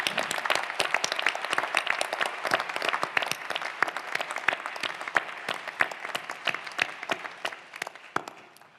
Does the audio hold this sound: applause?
yes